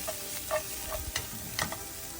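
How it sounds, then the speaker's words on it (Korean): Onions sautéing in cooking oil in a pan make a soft, steady sizzle, with light taps and scrapes from stirring coming through a few times. "볶은 팬에 그대로 식용유를 두른 후 양파를 넣어줍니다."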